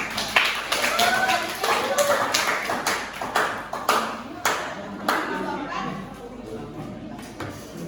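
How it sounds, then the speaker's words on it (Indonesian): A room full of people clapping steadily for several seconds, a dense patter of hand claps with a few louder ones standing out. "Tepuk tangan untuk kita."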